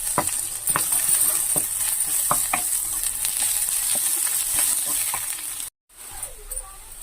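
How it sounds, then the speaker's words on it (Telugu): Onions and ginger-garlic paste frying in oil for prawn biryani, a steady close sizzle with scattered clicks of stirring, briefly cut to silence near the end before resuming. "అల్లం పేస్ట్ కూడా ఫ్రై అయిపోయిందండి"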